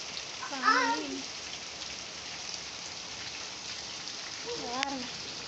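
Continuous heavy rain pours and patters close by inside a house, with a couple of short voiced bursts of speech at the start and end.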